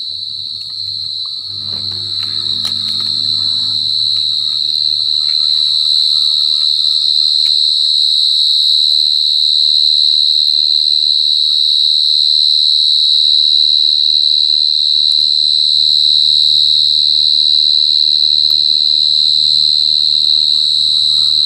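Field crickets trill at night during a cricket hunt: a loud, continuous high-pitched chirring holds steady throughout, with low rustling and handling noises near the start and again later.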